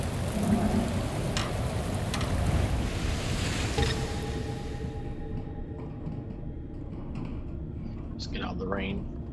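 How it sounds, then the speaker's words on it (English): Steady rain in the video game Shadows of Doubt forms a dense hiss for the first half and then thins, with faint tonal game sounds and a brief voice near the end. "Get out of the rain."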